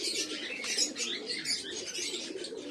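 Pigeons in a loft, including males and fancy breeds, keep up a steady close chorus of cooing and chirping with a bright, busy texture and occasional wing flutters, with no voices.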